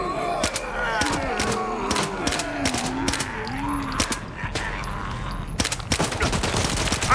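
Enemy gunfire in S.T.A.L.K.E.R. 2: Heart of Chornobyl cracks out in rapid, irregular shots and bursts, mixed with low groaning voices and game ambience.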